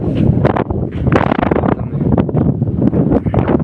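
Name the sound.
strong stormy wind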